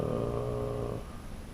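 A sustained synth pad called Plastic Snow from an Arturia Mini Moog software instrument, a warm harmonic chord held steady for about a second before cutting off to a quieter tail.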